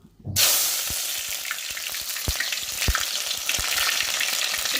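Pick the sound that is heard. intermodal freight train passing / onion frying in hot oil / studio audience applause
onion frying in hot oil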